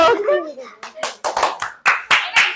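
A voice speaks, then a group of hands claps in several quick bursts, near and fairly loud.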